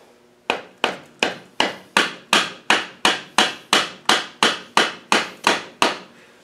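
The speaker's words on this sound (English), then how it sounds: "I'm going to get a soft hammer to tap that in" A hammer striking parts of an LT230 transfer gearbox intermediate gear assembly during a rebuild: about sixteen sharp, evenly spaced blows, each with a quick decaying ring, close and loud with no talking.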